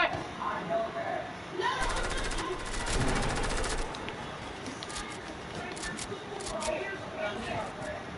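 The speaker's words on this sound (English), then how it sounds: "Oh, he's spraying! Stop spraying the SMG" An SMG sprayed in a video game, with a rapid burst of automatic fire that peaks midway through, heard under excited voices talking throughout.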